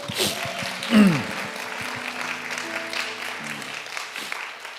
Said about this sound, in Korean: 우리 감사하다고 박수 한번 할까요?